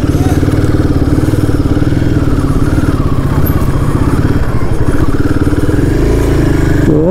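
A Royal Enfield Himalayan 450 motorcycle engine thumps loud and close in a rapid, steady rhythm as the bike rides off through city streets, with a brief rise in revs near the end.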